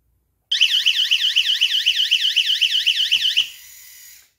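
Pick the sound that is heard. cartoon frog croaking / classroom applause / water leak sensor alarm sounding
water leak sensor alarm sounding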